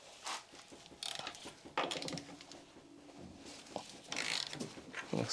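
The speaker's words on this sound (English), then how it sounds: "I've got a long 3/8 ratchet" A long 3/8 ratchet turns a thin wall socket on a car left abandoned for years, giving quiet, close bursts of clicking pawl ratchets with pauses between strokes.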